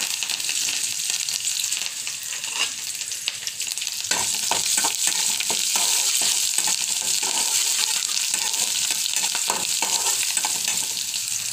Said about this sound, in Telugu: నూనె కాగుతుంది చక్కగా తాలింపు కూడా వేగిపోయింది ఉల్లిపాయలు కరివేపాకు అండి